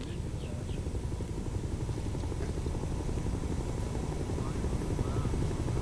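The Shuttle Carrier Aircraft, carrying the orbiter Endeavour, descends toward runway 33 at Kennedy Space Center, a steady distant rumbling engine drone holding level throughout.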